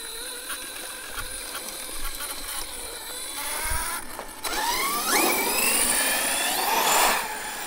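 An ARRMA Fireteam 6S RC car on its first run, its electric motor whining and rising in pitch with sweeping revs that grow louder toward the end, over a steady background hiss.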